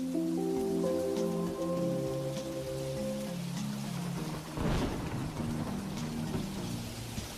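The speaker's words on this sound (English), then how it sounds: "So it's raining, so I don't have to water my plants." Steady rain patters and hisses throughout the farming game Monster Harvest on Nintendo Switch, layered with soft sustained background music tones.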